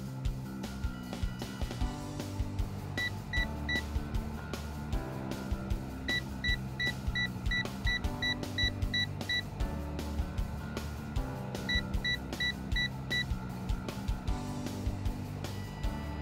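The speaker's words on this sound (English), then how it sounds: "Reading the maximum altitude is as simple as counting the beeps." A LaunchPad water rocket altimeter beeping out a maximum altitude readout: groups of short, high electronic beeps in counted bursts with pauses between digits, repeating over a faint background hum.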